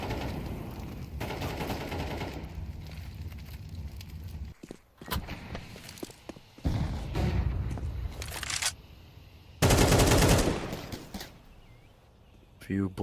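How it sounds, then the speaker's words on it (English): Bursts of gunfire and effects ring out during a competitive CS match between MOUZ NXT and Alliance in a European Pro League game, with footsteps between the bursts and a commentator talking over the action. "Few bullets through the smoke, not really connecting to either of the players though."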